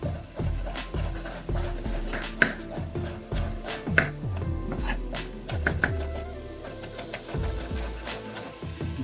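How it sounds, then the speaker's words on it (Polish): Carrots being sliced into rounds with a knife for a pumpkin cream soup, a series of sharp, close chopping taps against a board at an uneven rhythm, with no talking. "I teraz marchew po prostu w talarki pokrójmy."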